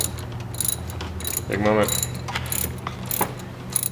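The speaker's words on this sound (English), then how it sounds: "The last little nut is coming off." Ratchet loosening the last nut on the thermostat housing of a 1995 Toyota Land Cruiser, a fast run of close, crisp ratcheting clicks in short bursts, with someone briefly speaking over it.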